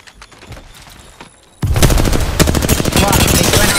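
Gunfire in the video game Apex Legends: after quieter scattered shots, a dense, loud burst of rapid automatic fire erupts and keeps going, with a player talking faintly underneath.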